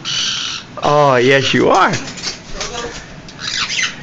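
Pet parrots at home squawk and chirp with a few loud, nearby calls, mixed with someone talking affectionately to the birds over them.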